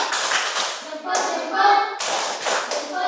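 Classroom of children clapping along in a thumb-clap song, rhythmic bursts of hand claps in short groups with a pause between, alongside a voice singing or chanting.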